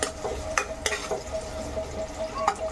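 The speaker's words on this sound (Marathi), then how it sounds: "मग कांदा असा हलवायचा." Onion stirred and frying in a pan for a Mangalorean fish curry, with a soft continuous sizzle and a few sharp scraping clinks of a spoon against the pan.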